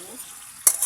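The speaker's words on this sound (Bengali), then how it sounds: "তরকারিটাকে সামান্য একটু ভেজে নিচ্ছি।" A curry of rohu fish with beans, potato and tomato sizzles in a pan, a brief quiet stretch followed by a sudden bright hiss of frying and stirring up close.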